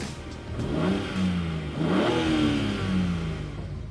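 A BMW M4 accelerates hard with a close, throaty engine note. The pitch rises and dips through several gear changes as the revs climb again and again.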